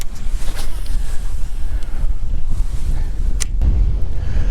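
Steady wind roars and buffets the microphone in uneven gusts by a small lake cove, a low rushing noise with no voices.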